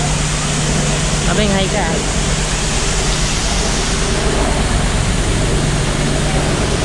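A waterfall at Bird Paradise in Singapore pours in a constant, dense roar that fills the whole scene, with people chatting over it and faint bird calls in the mix.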